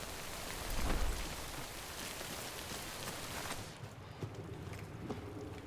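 Steady rain in the video game Death Stranding, a dense even hiss of falling water with scattered soft footsteps on wet ground, moderately loud and then thinning slightly toward the end.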